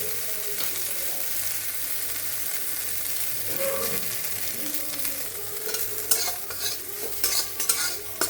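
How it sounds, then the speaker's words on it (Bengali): Soybean chunks for soya chowmein fry in a pan with a constant, moderate sizzle. Scattered scraping and clinking from stirring grows busier toward the end. "সয়াবিনগুলো ভাজা হয়ে গেছে"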